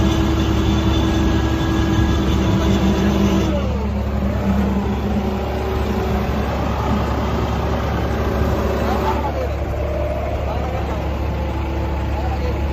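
A John Deere 5075E tractor engine labours in four-wheel drive while pulling against a bulldozer in a tug-of-war. The loud, constant drone fills the whole stretch, with brief shifts in pitch and voices in the background.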